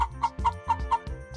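A hen clucking in a quick run of about six short, evenly spaced clucks, close and clear with no other sounds.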